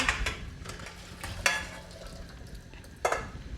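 Food sizzles in a pan on a home stove, a low steady hiss broken by a few sharp scraping stirs and clinks of a utensil against the pan.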